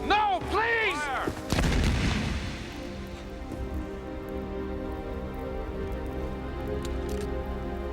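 A firing squad's rifles fire as one loud booming volley that rolls off into a long, fading rumble and echo, following shouted commands and a pleading voice.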